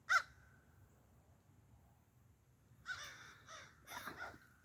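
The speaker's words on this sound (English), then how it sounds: "Some crows visiting." Crows caw outdoors, a single faint call first, then after a pause a few more caws in quick succession, distant and soft against a quiet background.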